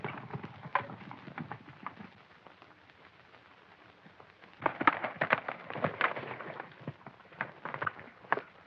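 Rapid hoofbeats of galloping horses in a 1936 western film, faint at first then louder and closer, with irregular clattering rhythm and no talking.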